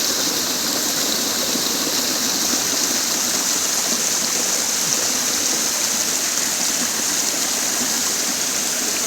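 Steady broadband rush of a large river flowing in Quezon, loud and continuous across the whole stretch with no voices.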